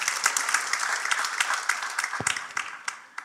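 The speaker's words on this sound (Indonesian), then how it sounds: "Kita beri tepuk tangan untuk Tuhan Yesus" A church congregation applauds after a sermon line praising Jesus, a dense wash of clapping that swells and then thins into scattered individual claps toward the end, with no talk over it.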